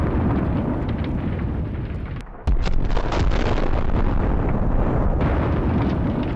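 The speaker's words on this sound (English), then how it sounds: "a strong explosion turns the equipment into ashes" A Russian APC hit by an FPV drone explodes in a loud, sustained roaring blast that cuts briefly and then rumbles on, dense and overwhelming, with no voices.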